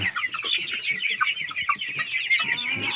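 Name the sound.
rooster clucking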